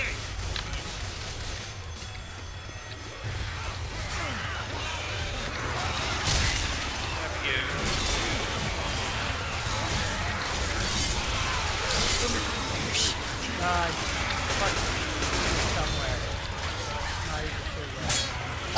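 Gunfire in the Left 4 Dead video game crackles in rapid, repeated bursts throughout, mixed with game effects while players talk over it.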